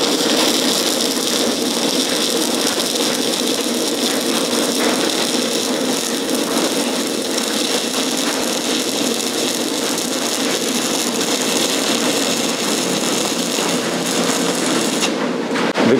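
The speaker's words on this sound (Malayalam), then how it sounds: "നല്ല സ്മൂത്ത് വെൽഡിങ് ആണ്." An MMA200A mini stick-welding machine burns a welding rod in a steady, crackling arc that runs close and unbroken, with no talking.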